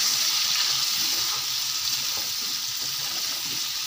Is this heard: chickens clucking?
no